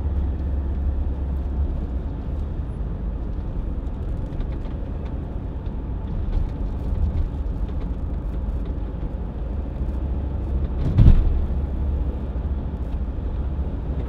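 A Volvo XC60 2.4 D5 diesel SUV drives along with a steady low engine and road rumble heard from inside the cabin, plus a brief thump near the end.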